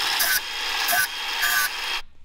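A bolt from an off-road vehicle stuck on a rough trail is cut shorter with a steady, harsh grinding rasp. The cut runs in three long passes, then stops abruptly.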